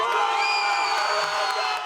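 Crowd cheering and whooping at a basketball game, with pep band seniors among the fans; a loud, dense, sustained roar of many voices with high shouts rising above it throughout.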